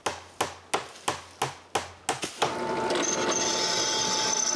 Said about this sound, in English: So I nailed more boards all around it.